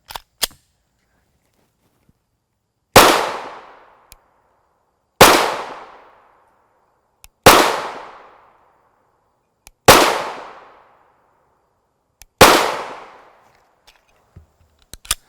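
Five sharp 9mm shots of G9 Defense hollow points fired from an AREX Delta Gen 2 long-slide pistol outdoors, evenly spaced about two seconds apart, each loud crack trailing into a brief echo.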